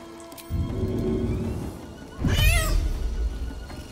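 In Baldur's Gate 3, a cat lets out a single clear, rising-and-falling meow close up, preceded by soft rustling and faint background game ambience.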